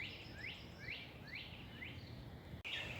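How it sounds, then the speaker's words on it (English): Outdoors under a wooded canopy, a northern cardinal repeats four or five clear, sweeping downslurred whistles in an even rhythm, soft and somewhat distant over a quiet natural background. "There's the cardinal we were hearing."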